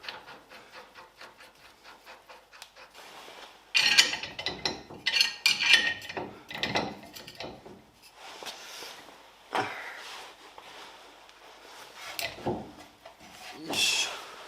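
A hub nut being fitted during suspension work on a Mazda RX-7 FD3S restoration: close, quiet metallic scraping and ratcheting rubs in irregular bursts, with faint clinks in between.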